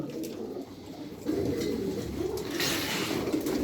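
Pigeons coo softly inside a loft, low throaty calls layered over a steady background murmur, growing a little fuller partway through.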